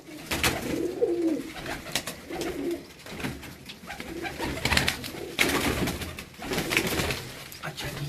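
Pigeons coo repeatedly on a rooftop, soft throaty calls coming in overlapping bursts at moderate distance, with some faint background noise and occasional murmured voices.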